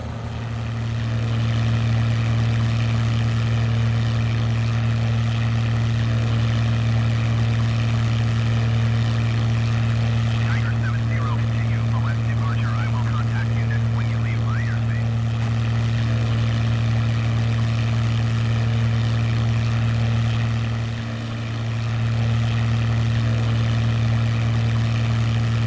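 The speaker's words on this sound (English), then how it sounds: "100 knots, right about there. We should lift off." A Piper Tomahawk propeller plane in Microsoft Flight Simulator lifts off at about 100 knots in a slight crosswind, its engine drone a steady, loud hum that holds throughout with a brief dip near the end.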